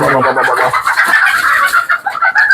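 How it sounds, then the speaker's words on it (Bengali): Native chickens on a Bangladeshi poultry farm cluck and call close by, a busy overlapping chorus of short repeated notes that fills the whole stretch with no talking. "কিছু মুরগি আছে এখানে আর আমাকে দেখলে তো উপর একটু লাফালাফি করবে"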